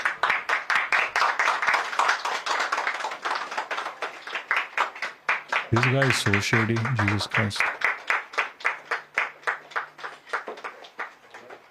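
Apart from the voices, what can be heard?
audience applause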